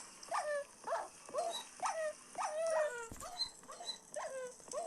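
Several dogs whimper and yip in a repeated series of high, whining cries, fairly close, with a short bark in the middle.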